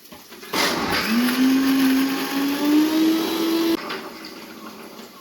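A mixer grinder whirs loudly for about three seconds, grinding garlic, ginger, coriander and mint leaves into a fine paste, its motor pitch rising steadily before it cuts off, leaving a quieter hum behind.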